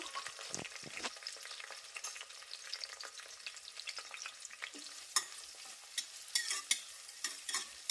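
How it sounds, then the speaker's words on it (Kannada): Onions and green chillies fry in oil, a faint crackling sizzle with scattered pops and quick stirring scrapes, gentle and close, with no voices. "ಈರುಳ್ಳಿನೂ ಹಾಕ್ಕೊಳ್ತೇನೆ ಎಣ್ಣೆಯಲ್ಲಿ ಇದನ್ನು ಹುರ್ಕೋಬೇಕು"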